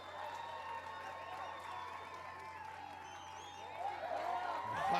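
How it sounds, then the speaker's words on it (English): Live crowd cheering and applauding for a competitor at the American Ninja Warrior Dallas finals, a steady roar of voices and clapping that swells louder toward the end, with talk over it. "There's a big cheering section being led by his very loud and proud mother, Linda"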